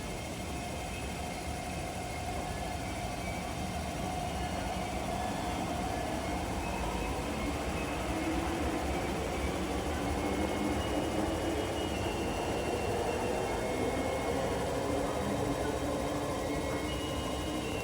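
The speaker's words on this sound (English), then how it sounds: "you can probably hear the motor" A steady, loud mechanical drone with a rising and falling whine, a light rail train motor humming continuously while the rail car moves along near Tuen Mun, Hong Kong.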